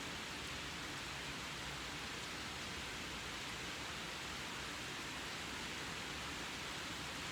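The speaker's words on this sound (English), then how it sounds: "And it's starting to rain more and more now." Rain falls steadily outdoors, a constant soft hiss of drops with no breaks and no voices.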